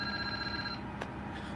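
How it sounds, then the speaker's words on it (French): A mobile phone rings during a ransom situation, a steady electronic ring tone with sustained pitched tones that stops partway, followed by a brief click and quiet room noise. "On a peut-être un appel de vos rançonneurs sur le portable."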